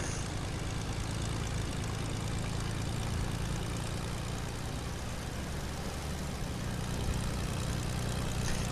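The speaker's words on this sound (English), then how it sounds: "Start engine." Plane engine running in the video game Fortnite, a steady broadband drone with a low hum that holds at an even level throughout, no talk over it.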